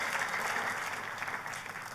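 A church congregation at a Christmas service applauds in a steady, brief burst of clapping, faint and distant, with no voices over it.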